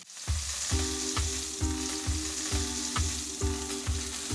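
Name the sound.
fish frying skin-side in smoking hot oil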